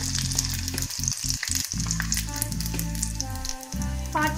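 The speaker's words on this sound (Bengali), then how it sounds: "5 থেকে 6 সেকেন্ডের মধ্যেই ভাজা হয়ে যাচ্ছে।" Papad frying in hot oil, a dense close sizzle and crackle lasting throughout, with a low steady hum beneath and brief gaps as pieces are added or lifted.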